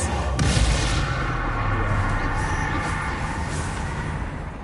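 Confringo blasting curse exploding in a Harry Potter video game, a heavy booming blast with a sharp crack at the start, then a deep rumbling roar that lingers and slowly fades.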